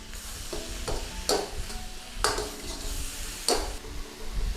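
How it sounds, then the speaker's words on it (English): Beef and mushroom stir fry with soy sauce being stirred in a pan, a steady sizzle broken by several sharp scrapes of a utensil against the metal at irregular intervals, close and moderately loud. "Just give that a little stir."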